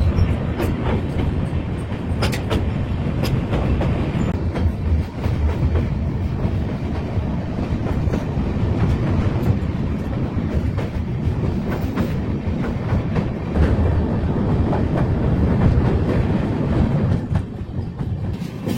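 The Rajdhani Express rolls along rails out of Sairang station in Mizoram, a loud steady rumble with rhythmic clickety-clack wheel beats and metallic clanks heard continuously from on board.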